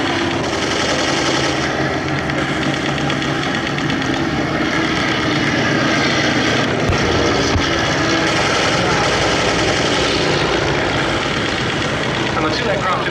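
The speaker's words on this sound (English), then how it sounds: "The 2 aircraft breaking away high there," Two SE-5A First World War biplanes flying a Great War display at the Duxford summer airshow, a steady loud engine drone with crackling mock gunfire, while a commentator talks over it continuously.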